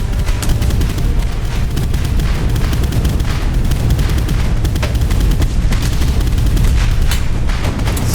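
Artillery and mortar fire in the Boat Crew video game: a dense, continuous barrage of loud booms and cracking gunfire. The blasts overlap without pause across the whole stretch.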